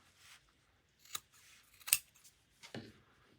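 Scissors snip through sewing threads on a tote bag in a quiet room, giving a few separate crisp clicks spread over several seconds, close and fairly soft.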